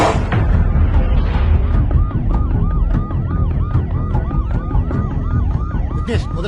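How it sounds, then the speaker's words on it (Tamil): An ambulance siren wails loud and close in a tense film scene, with a fast repeating high-low yelp that holds steady across the whole stretch over a dense street rumble. "விக்னேஷ் முதல்ல ஆம்புலன்ஸ் சீக்கிரமா ஹாஸ்பிட்டல் போக சொல்லு."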